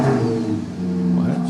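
A car at a dealership starts up with key and foot on the brake, its engine settling into a steady mid-pitched idle and rising in a brief rev near the end, close and fairly loud with no talk over it.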